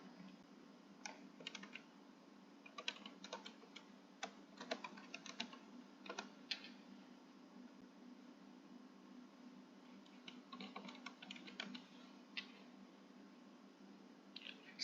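Keywords are typed on a computer keyboard in quiet, irregular bursts of soft clicking key taps, with brief pauses between runs over a low steady hum.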